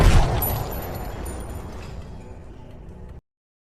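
A single pistol shot in a film bursts loud at the start, then its boom rolls away in a long fading tail before cutting off.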